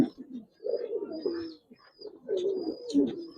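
Giribaz pigeons at a pigeon market in Narayanganj, Bangladesh coo in low, throaty, rolling bursts close by, with brief pauses between calls and faint high chirps in the background.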